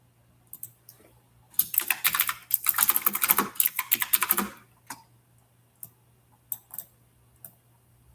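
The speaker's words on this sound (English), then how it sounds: "I love my noisy keyboard. It's so purple and noisy." Loud clacky keyboard typing, close by, with a dense burst of rapid keystrokes in the middle and scattered single clicks before and after.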